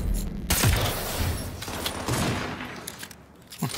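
Bursts of gunfire crackle in a Cyberpunk 2077 firefight, with several loud, close volleys and lingering rumble between them.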